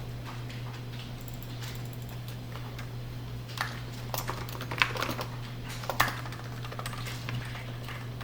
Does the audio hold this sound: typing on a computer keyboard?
yes